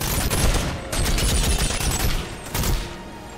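Sustained rapid gunfire from a weapon in the VR game Bonelab, a loud, dense burst that runs almost unbroken with only brief gaps between volleys.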